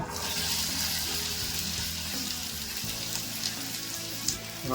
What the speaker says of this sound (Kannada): ಇವಾಗ ಕಟ್ ಮಾಡಿ ಇಟ್ಕೊಂಡಿರೋ ಬೆಂಡೆಕಾಯಿ ಇದಕ್ಕೆ ಹಾಕೊಂಬಿಡೋಣ